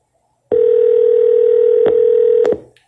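A single steady electronic tone sounds loud and close on an outgoing real estate cold call, holding for about two seconds with small clicks before cutting off.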